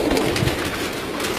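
Pigeons on a rooftop coo steadily, a soft, close, continuous murmur of low calls with no voices.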